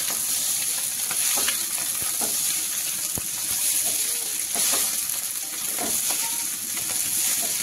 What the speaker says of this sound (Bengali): বাকি সবজি আর পাস্তাটা একটু মিশিয়ে নেবো এর মধ্যে।